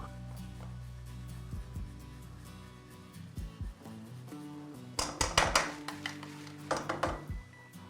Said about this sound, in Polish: Czosnek mam tarty, delikatnie go przemieszam.